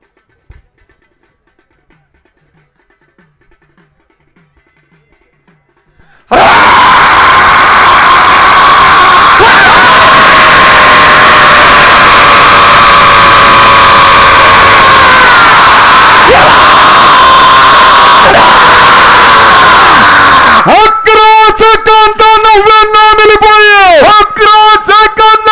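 At the Shri Jogeshwari Mata festival in Kesnand, a dense crowd erupts into loud yelling and whooping as a bull leaps. A near-silent lull gives way to a sudden, sustained roar of shouting, followed later by blaring tonal bursts.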